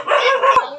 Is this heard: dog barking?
yes